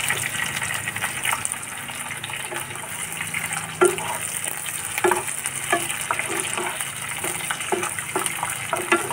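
Potatoes and onions sizzle steadily in a pan as an egg poach curry is cooked, a continuous broadband hiss broken by scattered clinks and scrapes of stirring, with no talk.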